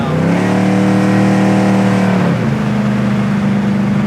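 A 1971 Chevrolet Chevelle SS engine pulls hard from inside the car, a loud steady drone whose pitch climbs gradually before dropping and settling as the gear changes, with no talk over it.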